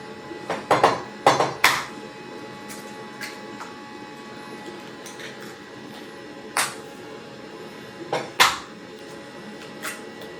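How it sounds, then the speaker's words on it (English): Eggs cracked against a bowl while baking at home: a quick cluster of sharp knocks and taps early on, then a few isolated clicks and cracks spaced apart in a quiet kitchen. "I crack the eggs"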